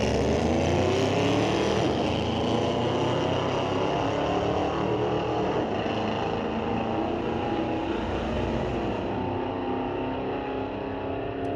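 Corvette and Dodge Challenger drag racing at Mission Raceway Park during a street-legal drag night, engines roaring loud and continuous as they accelerate down the strip, pitch climbing through gear changes, with no talk.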